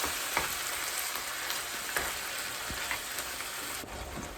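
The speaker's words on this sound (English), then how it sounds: "Stir it around just a little bit, just to start mixing it up." Ground beef and canned tomato sauce sizzling and frying in a pan as they are stirred together for gluten-free baked ziti, a steady close crackle with soft scraping strokes and no talking.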